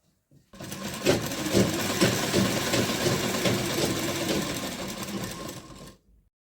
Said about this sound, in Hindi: इस तरह से मैंने पूरे में सिलाई लगा ली।